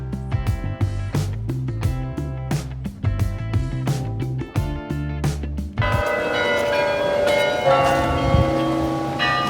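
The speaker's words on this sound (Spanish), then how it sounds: "las campanas en Ámsterdam suenan cada 15 minutos" Church bells in Amsterdam ring in a quick repeated pattern of strikes, then settle into a dense, sustained wash of overlapping tolling that carries on loudly.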